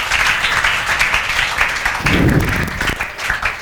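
Students in a classroom clap together, a sustained, fairly loud patter of many hands that continues throughout with a few louder swells and some voices mixed in.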